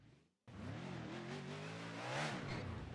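A NASCAR race car engine in a video game at Darlington Raceway revs up hard after a brief silence, a loud steady roar that rises in pitch toward the end with no talk over it.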